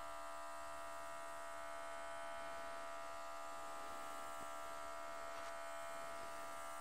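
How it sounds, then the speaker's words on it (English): A no-name portable cordless airbrush compressor runs with a steady electric whine and hum. The tone stays constant and alone throughout, fairly quiet with no talk, its output held open because the pressure is low. "we're going to keep it opened up because we already don't have a lot of pressure coming out of this compressor"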